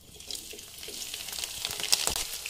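Green chillies dropped into hot oil with browned cumin for egg bhurji give off a soft, steady sizzle and crackle that rises slightly as frying continues, fairly quiet with no talking.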